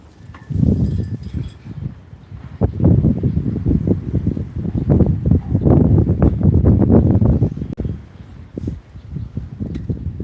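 Strong wind buffets the microphone in loud, continuous gusts with rustling, and nobody speaks.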